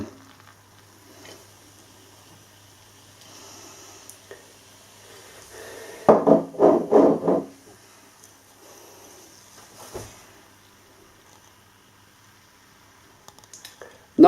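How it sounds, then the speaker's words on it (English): Harry's Heifer hefeweizen from Church Farm Brewery glugging and splashing into a glass in a loud burst of about a second and a half, then settling into faint fizz in a quiet room. "Let's get this beer out into a glass and see what we get."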